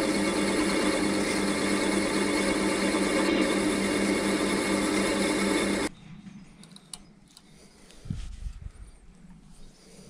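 A steady, loud, dense crackling hiss of welding along a chamfered joint on a metal workpiece runs for about six seconds, then cuts off abruptly, leaving quiet room sound and a brief low knock.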